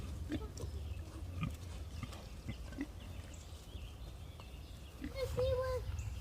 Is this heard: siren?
no